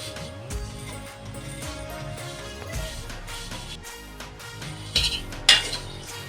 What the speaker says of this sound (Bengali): তবে এই প্যাকেট সেমাইও রান্না করার আগে একটু ভেজে নিতে হয় হালকা জালে